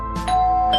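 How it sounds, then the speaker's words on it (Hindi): Doorbell ringing once with a bright ding-dong chime, close and clear, its tone ringing on briefly. "डोरबेल की आवाज, लगता है कोई बाहर है।"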